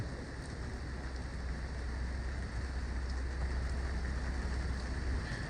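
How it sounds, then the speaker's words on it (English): Steady rain falls on a New York City street, a dense, even hiss with low rumbling traffic underneath, continuous and close without any voices. "So, ladies and gentlemen, I'm out here in the rain."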